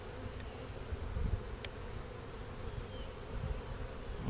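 A honeybee swarm entering a bait box, a dense steady buzzing hum from many bees close by, with a few brief louder passes.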